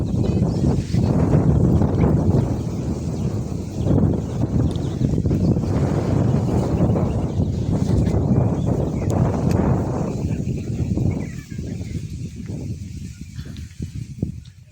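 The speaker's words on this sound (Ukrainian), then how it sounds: "Сьогодні трошки вітряно" Strong wind buffets the microphone in a low, rumbling roar that gusts continuously, easing slightly toward the end.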